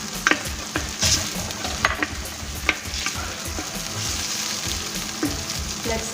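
Tomato paste fries with chilies and black lemon in a pan. A spoon knocks and scrapes through it in repeated clacks over a continuous close sizzle.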